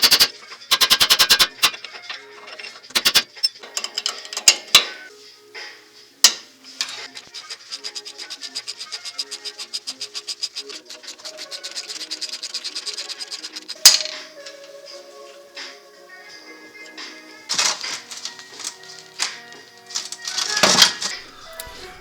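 A hand ratchet wrench works a front sway bar bolt on a Nissan Xterra, its metallic clicks coming in fast repeated runs, separated by sharp clanks and brief pauses, close and fairly loud.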